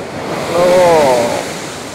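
Heavy surf pounds Shankarpur beach in a loud, constant roar of crashing waves with wind buffeting the microphone, while a brief wavering tonal whine rises and fades in the middle.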